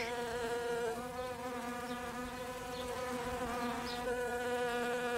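Bees buzzing around flowers, a continuous faint droning hum that wavers slightly in pitch as the insects move, steady throughout with no voices.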